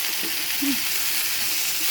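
Ginger goes into hot oil while boal fish fries for boal macher jhal. A steady, close sizzle hisses throughout, with faint clinks from stirring.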